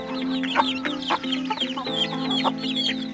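Day-old native chicks chirp in a steady, busy chorus of high, rising peeps, close by, with no talk over them.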